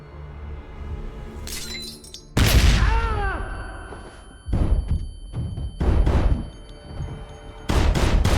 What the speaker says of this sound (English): we heard gunshots